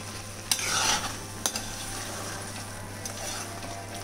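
Carrot halwa is stirred and roasted in ghee in a kadhai, with a soft steady sizzle and a few faint scrapes of the spoon against the pan at close range.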